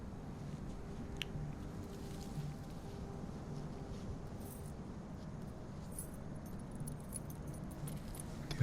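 Keys jangle in Call of Cthulhu, set at the abandoned Hawkins Mansion, as a soft, brief metallic rattle over a steady low ambient rumble, with no talking.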